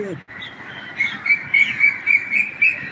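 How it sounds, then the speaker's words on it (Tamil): A large flock of crows flies over a town, their calls repeating in a regular rhythm at moderate distance over steady outdoor background noise. "காக்கா தாங்க தெரியுதுங்களா எவ்வளோ காக்கா பறக்குது"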